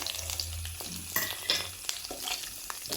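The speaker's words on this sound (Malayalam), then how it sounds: "തേങ്ങാക്കൊത്തും കൂടെ ഇതിൻ്റെ കൂടെ നന്നായിട്ടൊന്ന് മൂപ്പിച്ചെടുക്കാം" Coconut pieces and soya chunks fry in a pan with a soft, steady sizzle, broken by occasional scraping stirs and light clinks, fairly quiet and close with no talking.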